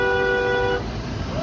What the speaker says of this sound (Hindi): हॉर्न मार भाई